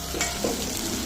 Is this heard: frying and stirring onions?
yes